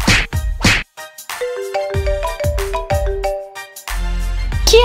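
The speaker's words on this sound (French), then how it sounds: "Qui est le téléphone qui sonne?" A mobile phone rings with a bright, tinkling melodic ringtone, a run of stepped chime-like notes sounding close and clear between a few sharp knocks, with no talking over it.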